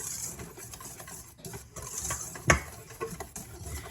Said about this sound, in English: Now we're going to whisk this together